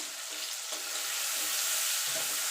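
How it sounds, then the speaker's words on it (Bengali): Turmeric powder hits hot oil in a pan, producing a steady, close hissing sizzle with faint stirring knocks and no talking. "তেলের মধ্যে দিয়ে দেবো হলুদ গুঁড়ো"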